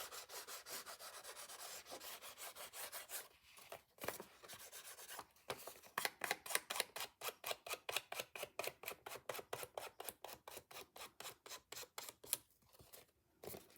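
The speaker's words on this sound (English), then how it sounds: "I'm going to take Stays On ink pad. Run that right along the edge." An ink pad is rubbed along the edge of a journal page in a steady run of quick, dry scraping strokes, close and fairly quiet, with brief pauses between bursts and no talking.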